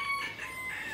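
An Indian game rooster with foot corns crows close by in one sustained, faint, strained call with no talking.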